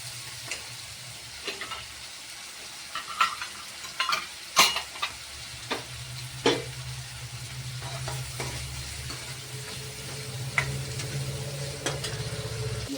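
Whole onions in curry sizzle steadily in a pan while a spoon stirs them, giving scattered scraping clinks and taps over the constant frying hiss, close and moderately loud with no talking.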